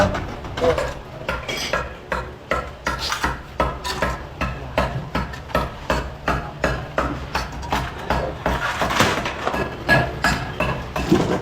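Repeated sharp banging and metallic prying knocks in a steady rhythm as a heavily nailed wooden window frame is worked loose during a house renovation, loud and close with clinks of metal.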